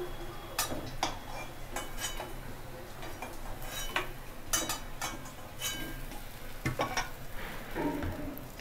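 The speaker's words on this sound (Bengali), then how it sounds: "আবার আমি 4-5টা কোপ্তে দিয়ে দিচ্ছি, আবার লাল লাল করে ভাজা হবে।" Raw banana koftas fry in hot oil in a wok, a steady low sizzle broken by sharp clinks and scrapes of a utensil against the metal, with no one talking.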